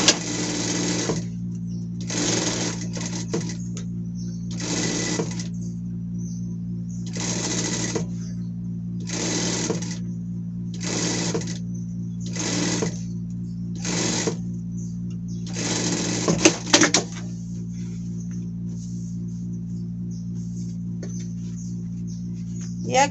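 A sewing machine stitches a hem on a skirt in a series of short, evenly paced whirring runs with brief pauses between them, close up, over a steady low hum and faint background voices.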